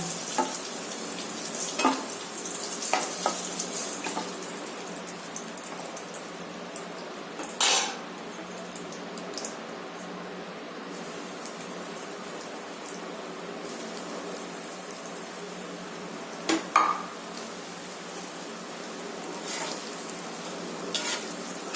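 Paneer pieces fry in hot oil in a wok for chilli paneer, giving a steady, close sizzle throughout with a few sharp clinks and scrapes of a utensil against the pan.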